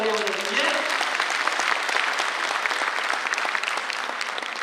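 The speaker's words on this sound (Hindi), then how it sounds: "जोरदार तालियां हो जाती है" Loud, dense clapping from an audience at a school annual function, sustained and even throughout, with a brief voice at the start before the applause takes over.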